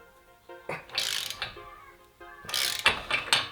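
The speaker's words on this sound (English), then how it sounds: "Just gonna put a wrench there on one of the lugs." A wrench works on a lug of a Ford Bronco axle, clicking in short metallic ratcheting bursts with pauses between, close and moderately loud, no speech.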